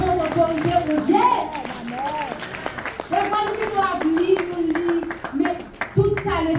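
Church congregation clapping in acclamation during a French-language worship service, a run of quick rhythmic handclaps mixed with singing and raised voices, sustained across the whole stretch.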